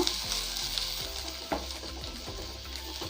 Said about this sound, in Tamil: இஞ்சி பூண்டு நல்லா ஃப்ரை பண்ணிக்கோங்க